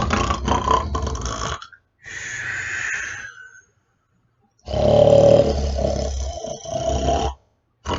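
A voice imitates loud snoring: deep, rasping growls in long drawn-out bursts separated by silent pauses.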